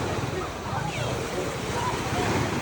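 Waves wash onto a clean Jamaican beach on the Caribbean Sea, a steady soft surf wash with some wind noise, fairly faint and continuous.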